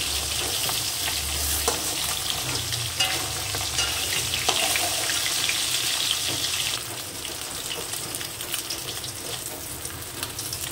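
Fish heads frying in oil in a kadai, a dense continuous crackle with occasional stirring scrapes, close and loud, easing a little toward the end, with no one speaking.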